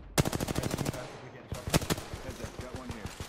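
Rapid automatic gunfire in Apex Legends, two quick bursts of evenly spaced sharp shots, close and loud, followed by a slower run of fainter shots.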